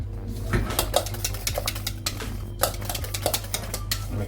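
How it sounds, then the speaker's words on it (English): Egg yolks stirred into a moussaka sauce, with rapid clinking and scraping of a utensil against a bowl over a low constant hum, close and continuous, without speech. "just put that in and just mix that"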